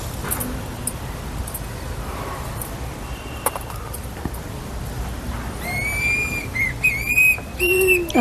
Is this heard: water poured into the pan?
no